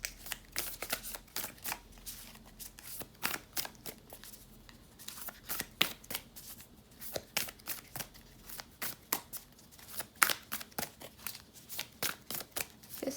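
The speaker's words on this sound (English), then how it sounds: "I'm going to shuffle for you guys some messages as well, because I enjoy shuffling a little bit on camera." Tarot cards are shuffled close-up in repeated crisp riffles and slaps, a steady run of sharp papery bursts with short pauses between them.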